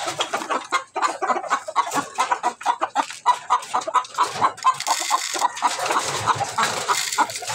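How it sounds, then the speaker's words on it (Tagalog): A breeding hen clucks repeatedly in a steady rhythm, close and clear, with a short rapid run of clucks and some background noise toward the end. "Ito yung ating inahin mga guys."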